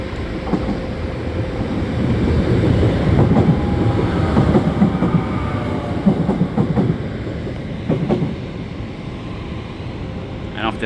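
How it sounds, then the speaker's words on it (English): An intercity train rolls through Lisbon Oriente station with a low rumble and rhythmic rail clatter, loud and close, lasting throughout with a few sharper clanks and someone talking faintly underneath. "So that's definitely an intercity train."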